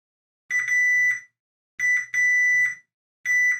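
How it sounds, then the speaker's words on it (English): Continuity tester beeping while probing grounded pins on a chip: three clear, high electronic beeps, each roughly a half-second to a second long, separated by silence, with a quick stutter at the start of each. "I got 2 beeps on that chip because I got 2 pins tied to ground on that chip"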